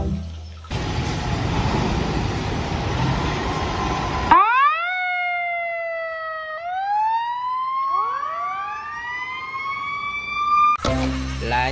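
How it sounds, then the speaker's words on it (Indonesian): A toy fire truck siren wailing loudly up close, with rising and falling electronic tones layered over each other, framed by brief bursts of rustling and handling noise before and after. "Ini adalah mainan si mobil super truk, mobil pemadam kebakaran ya teman-teman."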